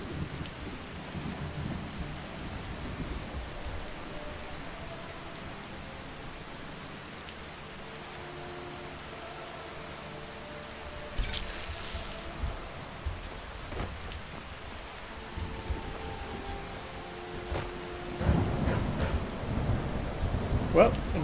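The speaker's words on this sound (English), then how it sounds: "Somewhere in the rain." Steady rain falls throughout a Skyrim game scene, a constant hiss with low rumbles of thunder building toward the end, where a louder burst swells; no one speaks over it.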